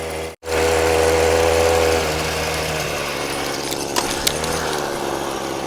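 A homemade mini bike powered by a brush cutter engine runs with a steady buzzing drone, loud and close, after a brief cut at the start, with small clicks and rattles later.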